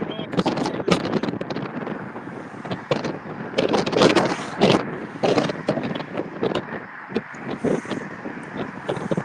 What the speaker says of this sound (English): The wind's picking up, and it's dark.